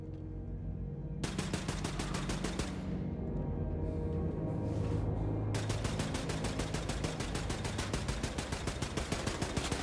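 Suppressed gunfire in Wolfenstein II: The New Colossus comes as rapid, evenly spaced shots in two long bursts separated by a short pause, loud and close with no talking.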